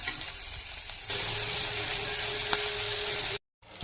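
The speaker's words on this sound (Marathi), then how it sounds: "मसाला सर्व असा भाजून घ्यायचा आहे। कांदा, टोमॅटो आणि बारीक मिक्स करून काढून घ्यायचा।" Steady sizzling of onion, tomato and spice masala frying in oil in a pan, close and continuous, with a brief cut of silence near the end.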